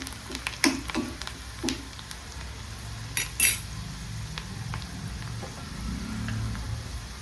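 Spices and chilli powder sizzle in a pan for Vidarbha-style besan pitla, while a metal spoon clinks and scrapes through several sharp stirring strokes close by.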